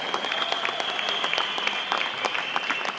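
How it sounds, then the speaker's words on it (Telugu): An audience at a company family reunion event applauds the winning team, many hands clapping densely and steadily for several seconds, close and loud, with a faint ringing tone sustained underneath. "ఒకసారి విన్నింగ్ టీం కోసం గట్టిగా క్లాప్స్ కొడదాం"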